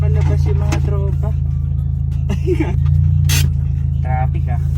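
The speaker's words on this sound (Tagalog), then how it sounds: "Uy, traffic ah." Bumper-to-bumper holiday traffic heard from inside a Honda Civic: a steady, loud idling engine rumble runs throughout, with someone talking over it.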